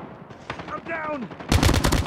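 Call of Duty Mobile gunfire erupts as loud rapid automatic bursts. Shouted voices and game chatter come first, then the shooting takes over.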